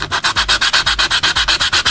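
Steady back-and-forth rasping of a file on a Hasegawa 1/24 Lancia Stratos HF 1977 Monte Carlo Rally plastic model body, about a dozen quick, even strokes, close and fairly loud with no talk.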